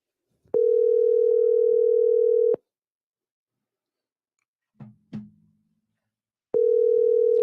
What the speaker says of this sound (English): Can you guys hear that phone ringing?